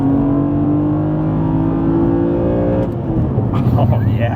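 BMW Z4 M Coupe with a CSL carbon airbox revs up to about 3,500 rpm and holds, the close loud intake and engine drone sustained before dropping back, with brief clatter near the end.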